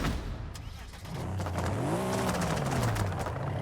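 A Mercedes engine revs in Forza Horizon 5, its pitch climbing and then falling back in a loud, continuous drone with racing-game engine character.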